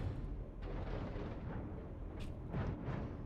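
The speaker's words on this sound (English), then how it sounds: "I also love the sound of cannons when they go off in this game." Heavy kinetic cannons in the space game Dual Universe fire in a series of faint, muffled booms and bursts over a rumbling background.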